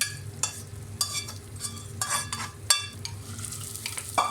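Bitter gourd fried in a little oil in a pan, stirred with a utensil, giving a steady soft sizzle broken by a series of scraping stirs at irregular intervals.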